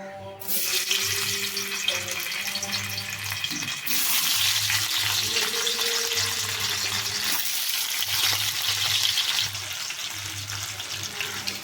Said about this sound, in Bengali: এই যে কড়াই গরম হয়ে গেছে এখন পনিরগুলো ভেজে নেবো